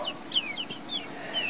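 Backyard chickens eagerly pecking at mealworms during a feeding frenzy, giving short, high, chirpy clucks and trills in quick succession, close by and fairly faint, with no voices.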